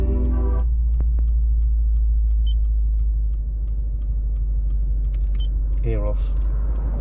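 A Lexus IS F engine drones low and loud inside the car while driving, with a brief rising whine near the start and again near the end, and a voice talking over it at times.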